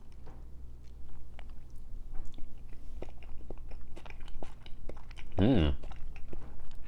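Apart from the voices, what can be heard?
eating spicy salmon sashimi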